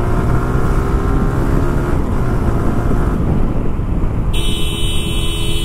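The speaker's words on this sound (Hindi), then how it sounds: "आप सुन रहे हो ना बैकग्राउंड नॉइस क्या क्रिएट कर रही है गाड़ी।" A TVS Apache RTR 160 2V BS3 motorcycle engine rumbles continuously while riding, loud and close, with heavy wind buffeting and a high whine appearing near the end.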